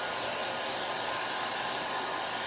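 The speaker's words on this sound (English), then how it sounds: "So I'm going to hit it with my hair dryer because we are going to layer this." A hair dryer blows in a steady, continuous airy roar, close by and alone.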